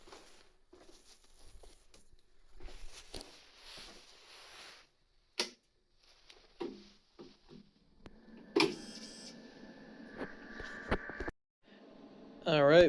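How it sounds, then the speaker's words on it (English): Cutter machine starting up while making an acrylic stand figure: scattered clicks and taps, then a steady motor whir with sharp mechanical knocks, ending in a louder rising buzz. "Start up the cutter."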